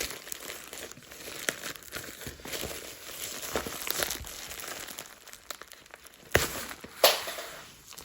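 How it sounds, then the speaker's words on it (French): Stiff plastic packaging crinkles and tears during an unboxing as scissors struggle to cut it, a steady close crackling with a couple of sharper snaps near the end. "même mon ciseau n'arrive pas à le couper"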